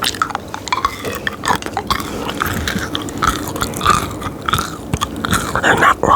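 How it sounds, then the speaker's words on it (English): Cherry-flavoured candy being chewed close to the mic, with steady wet crunching and biting sounds, loud and continuous with no talking. "They're not really hard, but easy to chew into."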